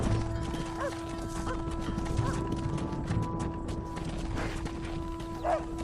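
Horse hooves clip-clopping at a walk as the horse is led into a pen in the Red Dead Redemption video game, a steady close rhythm of soft hoof falls over low ambient background.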